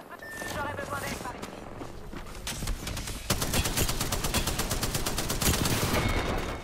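Sustained automatic gunfire in Apex Legends, a rapid even rattle of shots that grows denser and louder halfway through, with overlapping game sounds beneath.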